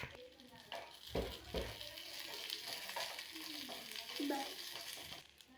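Close, busy sizzle of ingredients for tender coconut payasam frying in hot ghee, with stirring scrapes and a couple of low thumps; no clear speech.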